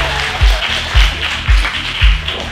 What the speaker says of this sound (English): Give a round of applause for yourselves.